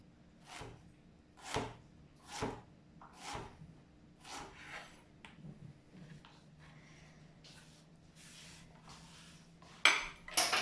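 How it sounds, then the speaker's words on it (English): A knife slices through strawberries on a cutting board, making about half a dozen evenly spaced sharp cuts, followed by quieter scrapes and clinks and a louder clatter at the end. "Got a few strawberries, let's just slice these up"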